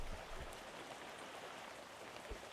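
Rain in the video game Webfishing, a steady soft hiss of falling drops with faint patters, continuous and even throughout with no talking.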